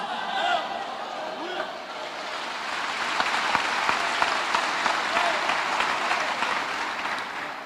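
A church congregation applauds at length, a steady dense wash of clapping with some voices mixed in, continuing at an even level throughout.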